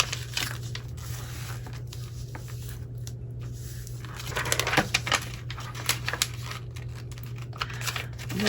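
Paper being folded and creased by hand for a junk journal recipe pocket, with crinkling, tearing-like rustles and taps over a steady low hum, getting busier toward the end.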